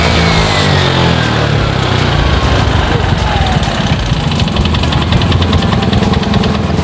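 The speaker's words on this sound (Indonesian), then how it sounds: "suaranya juga di bagian piston yang ngelitik" A Suzuki Skywave scooter engine runs close and loud with a rattly piston knock, a steady busy idle with fast ticking texture throughout, no talk over it.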